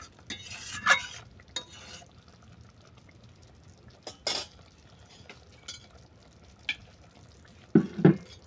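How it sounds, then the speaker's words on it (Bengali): Mango chicken curry is stirred in a pan, with a faint low background and scattered brief scrapes and clinks of a spoon against the pan, close but quiet, with no talk. "এরপর আমি নেড়ে চেড়ে এটাকে নামিয়ে নিচ্ছি।"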